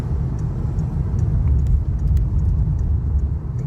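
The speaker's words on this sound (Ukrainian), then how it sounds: "О! Це це я паркую, знаєте." A car's engine rumbles low and steady while it is being parked, a close, continuous hum with no voices.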